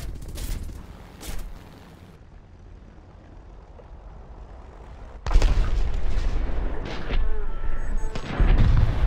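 Tank main gun in the War Thunder simulation mode, a few scattered booms early, a quiet stretch, then a loud blast around five seconds followed by sustained rumbling and further heavy shots.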